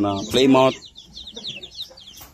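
Plymouth Rock and native chickens cluck at close range on a breeding farm. A loud, harmonic burst of clucking comes first, followed by softer, fainter chatter, with some human voice mixed in.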